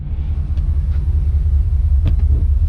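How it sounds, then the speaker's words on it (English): A deep, steady low rumble fills the whole clip, like distant thunder rolling on, with a couple of faint clicks near the end. "Hey, I hear you, Thunder."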